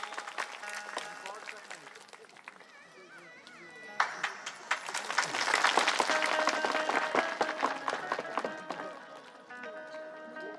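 An audience at a live Shri Ram Katha religious gathering claps loudly to welcome donors, a dense burst of applause swelling midway and easing off, with music and tones continuing underneath.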